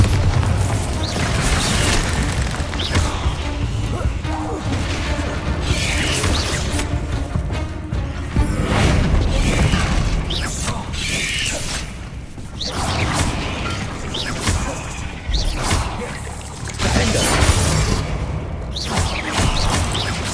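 Bombarda spell blasts in Hogwarts Legacy smashing objects, a continuous dense run of loud booming crashes and clattering debris with repeated heavy impacts spread over twenty seconds, close and full-bodied.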